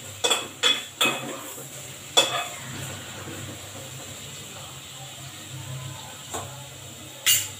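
Bottle gourd pieces are dropped into a cooking pot for vegetable sambar, giving a few sharp clatters and knocks of metal, then soft stirring and faint sizzling that fade into quiet, with no talking.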